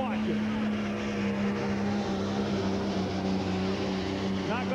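Pulling tractor at the National Tractor Pulling Championship in Bowling Green, Ohio, its engine roaring steadily and loudly with a sustained low drone throughout, while an announcer talks over it.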